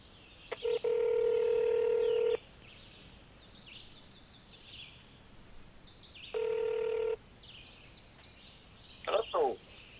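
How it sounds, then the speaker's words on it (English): Telephone being dialed to place a call: two steady ringback-style tones about a second and a half each with a pause between them, then a brief electronic chirp, fairly faint over a hissy background. "let's give Tom a call"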